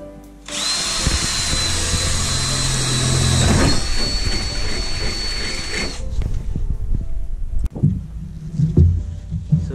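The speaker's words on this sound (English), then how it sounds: "I got my drill with the pilot bit in, and I'm going to drill the centre hole ready to cut out the hole for the gland" A power drill fitted with a pilot bit bores a centre hole in a camper van panel for a cable gland. Its loud, steady high whine runs for about five and a half seconds, then stops, leaving a few clattering knocks and handling noises.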